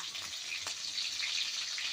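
Two green chillies hitting hot tempering oil for a moong dal curry, giving a bright continuous crackling sizzle, close and steady for a moment.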